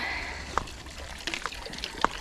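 Water trickles and splashes softly as cyclists refill their bottles at a stop on an Alpine gravel road, with a few brief drips and sloshes over a quiet outdoor background.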